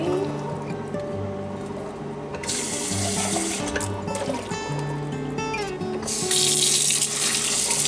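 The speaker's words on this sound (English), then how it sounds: "The first thing we're gonna do is drain and rinse the black-eyed peas and the black beans." A kitchen tap runs steadily while canned black-eyed peas and black beans are drained and rinsed under it, the water splashing and hissing louder near the end.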